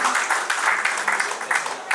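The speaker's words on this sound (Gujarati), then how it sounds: "તાળીઓ વગાડી શકો છો માનવતાના કાર્યમાં." Applause at a medical center opening ceremony, a steady, fairly dense patter of many hands with small rhythmic swells, heard at moderate distance throughout the short stretch.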